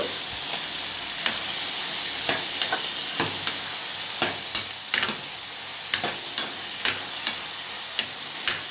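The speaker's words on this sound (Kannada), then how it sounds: "ಸ್ವಲ್ಪ ಬೇಯಲಿ ಹಾಕಿ ಮಿಕ್ಸ್ ಮಾಡ್ಕೊತಾ ಇದ್ದೀನಿ" A spoon repeatedly scrapes and clicks against the pot while a simple snake gourd (padavalakai) sambar cooks, under a steady bubbling sizzle. The stirring is close and continues in an uneven rhythm, with no voices.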